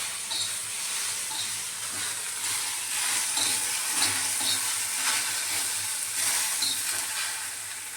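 Okra fries in a pan with a steady, dense sizzle and hiss that runs throughout, close and continuous, with occasional faint stirring scrapes.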